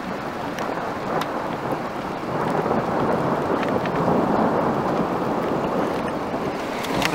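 A heavy thunderstorm with steady downpour hisses loudly and evenly, broken by faint cracks and low rumbles of thunder in the distance.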